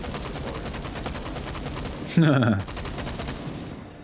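A short burst of gunfire from the Stormland VR game, coming as one sharp, loud volley partway through over a steady background hum.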